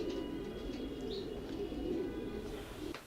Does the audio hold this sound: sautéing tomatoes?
no